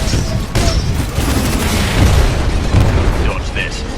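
A Titan missile salvo launches and detonates in Titanfall 2, a dense, loud wash of booming blasts and crackling bursts that rolls on throughout, with a voice speaking over the barrage.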